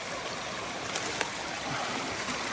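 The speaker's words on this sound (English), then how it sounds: "I figured I'd go check out this creek that I heard just in the region here" A creek runs steadily with a broad, even rush of flowing water that stays close and fairly loud throughout, with no voices, in a timber-felling area.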